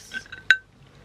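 A single sharp glass clink from a glass jar filled with matchsticks, bright and close, preceded by faint soft handling sounds.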